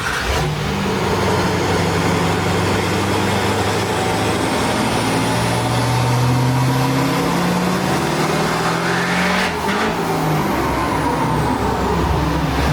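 A Hummer's engine revs hard under load during a dyno pull, a loud sustained roar with rising and falling tones filling the whole stretch, no talk.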